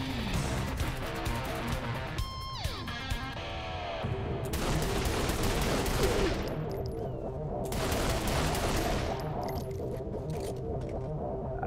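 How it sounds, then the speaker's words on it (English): Rapid gunfire from a Gatling gun in Saints Row The Third Remastered on PS5, loud sustained bursts with brief pauses between them, layered over dense game noise and effects. "That Gatling gun. Love the Gatling gun."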